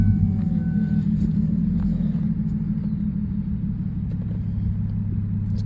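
A Lexus SC300 with its 2JZ inline-six running without mufflers idles close by in a steady, deep, low rumble that holds even throughout, with no talking.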